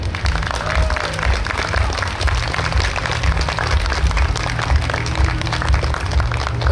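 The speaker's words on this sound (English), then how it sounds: "we think it's those guys that deserve a real round of applause" Crowd applause from a small but spirited audience, steady dense clapping with a low rumble, sustained throughout without speech.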